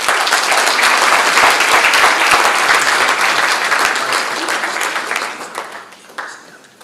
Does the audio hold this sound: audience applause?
yes